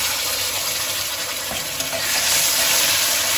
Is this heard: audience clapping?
no